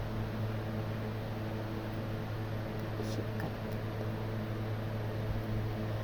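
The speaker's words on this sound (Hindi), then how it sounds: "अब मैं जग को अच्छे से फिट कर लेती हूँ और ब्लेंडर चला दूँगी तकरीबन 1 से 2 मिनट के लिए" An electric blender whirs steadily as it blends plum sharbat in a jug, a continuous motor hum that runs unbroken and fairly loud throughout without any talk over it.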